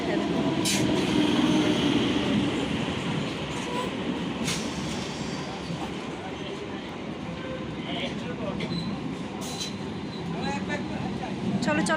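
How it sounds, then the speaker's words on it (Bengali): A train pulls into a railway station on a trip in Bengal, giving a steady loud rumble with wheel clatter and faint squeals throughout, while people talk over it. "ট্রেন ঢুকে গেছে আমাদের"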